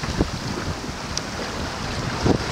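Wind rushes steadily across an IF Folkboat under sail, with low buffeting on the microphone, a few soft thumps and a continuous airy roar.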